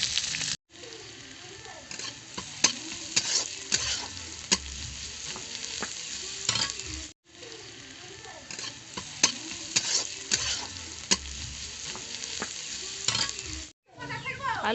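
Potatoes and eggplant fry together in hot oil, giving a continuous close sizzle broken by repeated stirring scrapes and light clinks of a utensil against the pan, with brief gaps.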